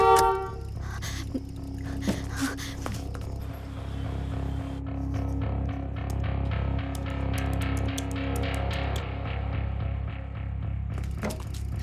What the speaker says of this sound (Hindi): अगर हाँ तो एक हॉर्न दो, अगर नहीं तो 2 हॉर्न दो।